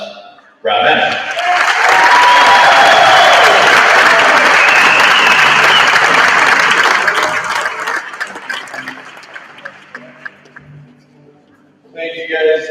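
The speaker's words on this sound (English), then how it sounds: "Please, a big round of applause, Rob Ennis." Audience applause at a sports center opening ceremony, a loud sustained round of clapping with some cheering that swells quickly, holds for several seconds, then tapers off before a voice begins speaking.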